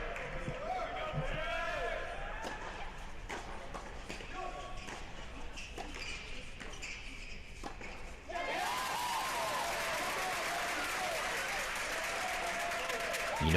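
Crowd applause erupts after a point at a men's college tennis match, Baylor against San Diego, a loud sustained burst in the second half following quieter court sounds and commentary.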